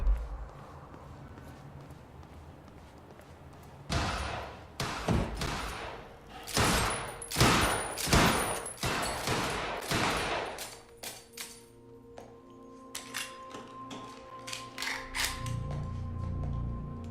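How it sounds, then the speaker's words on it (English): Loud bursts of rapid gunfire erupt in clusters and rattling volleys, then give way to quieter mechanical clanks and scattered shots in the video game Quantum Break. "I gotta check out that gunfire before I go anywhere else."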